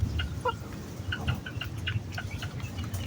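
Young blue-face crossbreed gamefowl, about five months old with green and yellow legs, cluck in short scattered bursts over steady outdoor background noise, with no talking.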